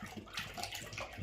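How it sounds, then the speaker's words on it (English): Milk is poured into a bowl of raw eggs, a soft, steady liquid splash that is faint and close, with no voices. "And then pour in your milk."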